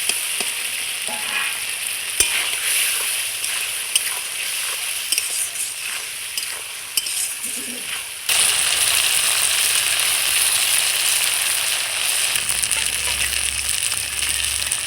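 Fried potatoes tossed into a spiced masala in a pan for a vegetarian cauliflower-potato dalna fry with a steady, loud sizzle and bursts of stirring, growing louder and denser about halfway through.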